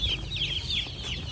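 Hens and chicks clucking close by in a rural yard, with repeated high peeping chirps over low, continuous hen clucks for a brief stretch.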